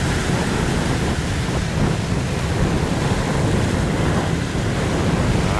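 Sea waves wash and surge steadily against an iron fishing boat out at sea, with a continuous loud roar of surf and wind buffeting the microphone and no voices.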